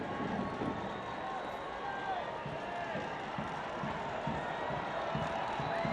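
A soccer stadium crowd at a Louisville City FC versus FC Tulsa match keeps up a steady, distant murmur with faint stirrings of cheer beneath continuous commentary.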